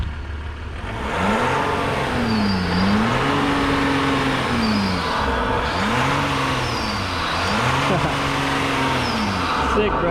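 A Jeep Grand Cherokee EcoDiesel with an Injen intake and baffle delete revs repeatedly, each loud rev climbing and falling back in a close, rhythmic series of pulls, with voices in the background.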